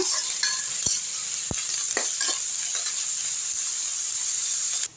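Onions and curry leaves sauté in hot oil, giving a steady close sizzle broken by a few sharp clinks and scrapes of a stirring spoon against the pan.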